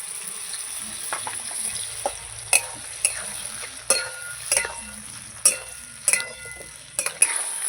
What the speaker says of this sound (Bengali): মশলাটা ভেজে নিয়েছি অল্প করে